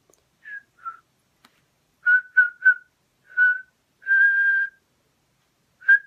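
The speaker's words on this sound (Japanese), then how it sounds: "口笛して、" Someone whistles a short, bright tune, a series of clear separate notes and one longer held tone, heard alone in a quiet room.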